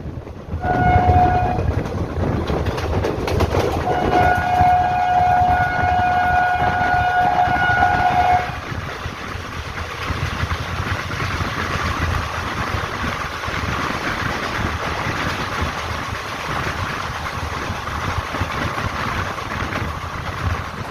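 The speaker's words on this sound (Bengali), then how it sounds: "আমাদের ট্রেন সাঁতরাগাছি স্টেশন ছেড়ে দিল" A passenger train pulls out of Santragachi station and runs on, with a loud steady rumble of wheels and carriages and a long sustained horn blast early before the horn cuts off and the running noise continues.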